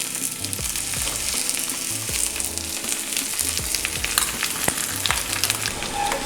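Raw mango and fresh coconut chutney hits a hot tempering in a pan and sizzles steadily while a spoon stirs and scrapes through it, close and fairly loud, with no talking.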